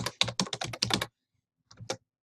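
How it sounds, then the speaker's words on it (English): Quick, close keystrokes on a computer keyboard as a document title is typed, a rapid run of about a dozen clicks, then a pause and a few more taps. "we're going to type in our title"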